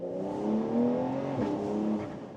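A Porsche 911 Carrera S convertible drives with its top open, the engine note rising and falling as it revs and pulls through the gears, loud and close with no talking.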